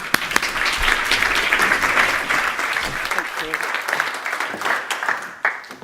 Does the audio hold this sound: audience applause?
yes